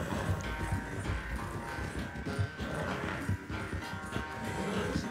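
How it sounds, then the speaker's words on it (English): A level-4 horse gallops in a Western-style video game, its hoofbeats thudding in a fast, steady rhythm under a busy layer of background music and game noise, with no voices heard. "Calma, cavalo."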